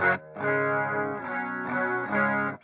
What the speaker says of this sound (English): It's almost like a modulated chorus effect, which I think sounds pretty nice